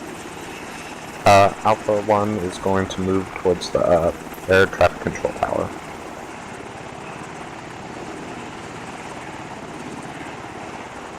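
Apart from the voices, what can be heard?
helicopter flying in a video game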